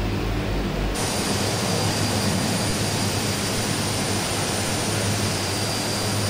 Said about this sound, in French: à part l'avion qui est passé vite fait